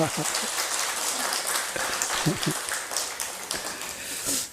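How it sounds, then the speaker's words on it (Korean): A church congregation applauds a member back after leaving the hospital, a steady, soft wash of many hands clapping at a moderate distance, continuing evenly for several seconds. "우리 한번 박수 한번 드립시다"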